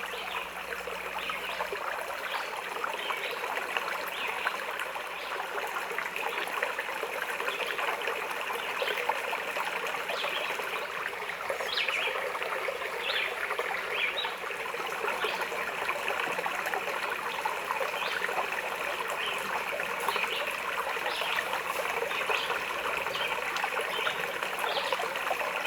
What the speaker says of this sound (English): there's a really nice creek where you can take time to relax and let the sound of the water do its soothing wonders